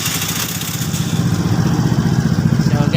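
A Suzuki Burgman scooter with an RPM problem runs close by, loud and steady. Its engine gives a continuous buzzing drone with a slight rhythmic pulse, and faint voices may sit beneath it.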